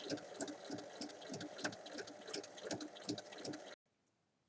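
A sewing machine stitches a long straight seam on a fabric basket, a steady fast whirring with rhythmic needle ticks for several seconds, close and moderately loud, then it stops abruptly into near silence.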